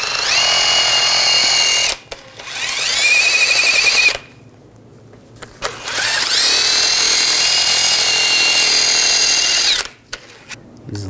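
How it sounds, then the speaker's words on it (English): Wire brush scrubbing rust off an outer tie rod on a 2007-2013 Chevrolet Silverado 1500, heard as loud, harsh, whining grinding bursts in two long runs with short pauses between, no talking. "I'm going to use a wire brush"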